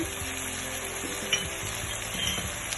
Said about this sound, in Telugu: పసుపు పొడి, గరం మసాలా పొడి ఇవన్నీ వేసి బాగా ఫ్రై చేయాలి.